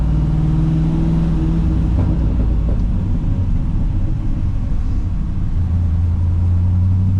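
1971 Ford F-100 restomod pickup with an LS3 engine cruising through Atlanta traffic, giving a loud, continuous low rumble with a steady drone and slight swells in engine note.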